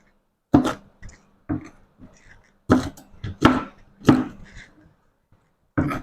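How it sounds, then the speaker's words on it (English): A knife roughly chops pimento peppers on a cutting board, making about eight sharp, close thuds in an uneven rhythm, some in quick pairs and others spaced by short pauses. "Yeah, let's just give that a rough cut."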